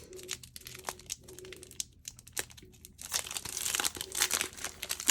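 Crinkly plastic packaging around new Stampin' Up! craft items, including an embossing folder, is opened up close, with scattered rustles and taps building into sustained crackling and crumpling.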